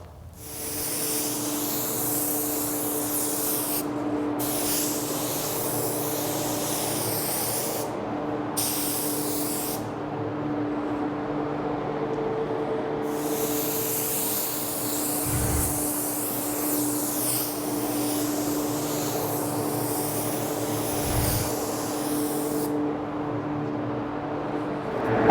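A paint spray gun sprays Orion SilverMax base coat in several long hissing bursts separated by short pauses. A steady low hum continues underneath throughout, and no one speaks.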